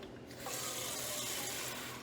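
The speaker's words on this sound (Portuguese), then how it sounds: "Agora eu vou colocar água." Water poured from a tap into a bowl of oat-based pie dough while making a heart of palm pie, a faint, steady splashing hiss lasting a couple of seconds.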